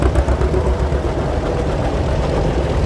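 A vintage 1949 John Deere AM tractor runs at a steady idle, its engine a loud, close, continuous low chug and rumble with no talk over it.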